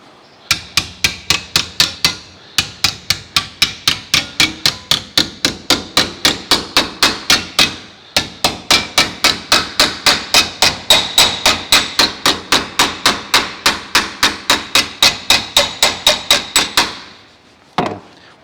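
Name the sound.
hammer folding sheet metal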